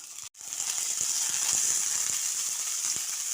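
Chopped onion, grated carrot and peas fry in a pan for a potato patty filling, making a loud, steady sizzling hiss that cuts out for an instant near the start and then runs on evenly.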